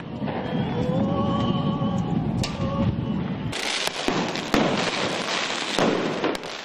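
Tear gas canisters fired by police toward protesters' lines during deadly clashes in Ukraine, heard as a string of sharp pops and bangs over a dense crowd roar, with whistling tones early on.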